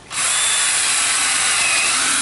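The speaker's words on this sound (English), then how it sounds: "I'm pre-drilling my holes, because I don't want none of the wood to split" A power drill pre-drills holes into 2x4 lumber so the wood won't split, starting abruptly and then whirring steadily and loudly at close range for a couple of seconds, with no talking.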